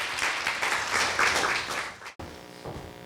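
An audience applauds at a university speaking contest, a dense wash of clapping that swells and then cuts off abruptly, leaving a faint hum of the hall.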